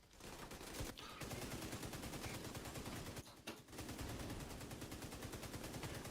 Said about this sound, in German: das ist ein Gewehr